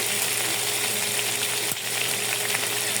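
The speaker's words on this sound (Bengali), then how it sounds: "মাংসটা যে আমি হালকা ভেজে নিচ্ছি" Beef sizzles steadily in a hot pan as it is lightly fried with soy sauce for a beef and potato steamed bun filling: a loud, close, continuous crackle with no voices.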